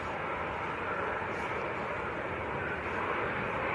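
A Ryanair airliner lands short at Manchester Airport, its engines a broad, continuous roar at steady volume from start to finish, with no voices over it.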